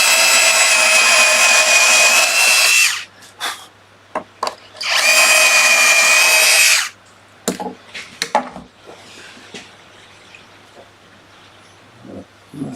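A power drill drives a screw into a wooden dovetail jig in two loud, sustained whirring runs of about three seconds each, followed by quieter knocks and handling sounds.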